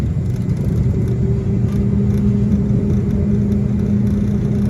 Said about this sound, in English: I'm gonna get the dryer going so we can dry this last little bit of corn